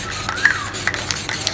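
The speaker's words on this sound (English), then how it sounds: "Spray enough and re-wet it" Aerosol spray paint can hissing in short repeated bursts, close and fairly loud, while painting a mountain peak in spray paint art.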